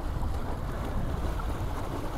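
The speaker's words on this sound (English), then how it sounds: "just the hull bouncing across the waves and a little bit of churn from the propeller" A small tender with a 3hp electric outboard moves across waves, its hull slapping and water churning steadily under heavy wind buffeting, with no motor whine.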